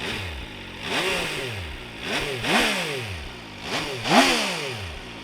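Three sharp throttle blips from a 2019 MV Agusta Brutale 800 motorcycle, each rising and falling around a burbling idle, close and loud with no talking.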